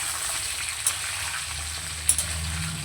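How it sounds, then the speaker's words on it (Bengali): Mixed vegetables fry and are stirred in a pan, a steady close sizzle broken by a couple of sharp scraping clinks. "এবার এই সবজিগুলোকে খুব ভালো করে নেড়ে"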